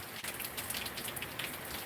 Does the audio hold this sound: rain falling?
yes